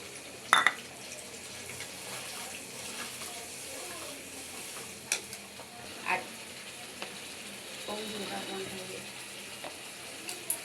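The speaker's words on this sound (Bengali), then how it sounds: "এই যে গোস্তটা দিয়ে দিছি এখন ভালো করে কষাই নেব" Quiet steady sizzle of beef frying with spices in a pan, with occasional clicks and scrapes of stirring.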